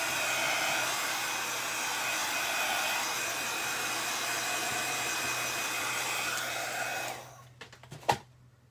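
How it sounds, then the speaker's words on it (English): A heat gun blowing on resin, a steady close whirring blast of air with a low motor hum that cuts off near the end, followed by a few quiet clicks and a brief knock. "I'm just blowing. The heat gun does not blow."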